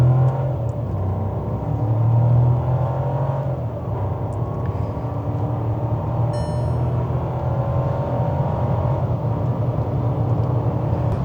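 A Skoda Kushaq 2026 facelift accelerates from a launch at 2500 RPM with a steady, throaty engine drone and road rumble that holds loud and even throughout, heard from inside the car.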